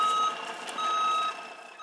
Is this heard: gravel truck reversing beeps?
yes